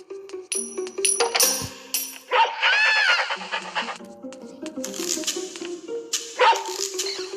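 A dog barks and yips several times in irregular bursts, with some whimpering, set against Robbery Bob video game sound effects and background tones.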